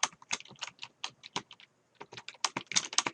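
Computer keyboard typing in a word processor, a quick run of close clicking keystrokes with a brief pause midway, no talk.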